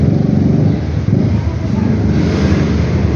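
A custom-built 175 cc Macho motorcycle engine revving loudly and steadily up close, a dense continuous rumble with slight rises in pitch, heard alone without talk.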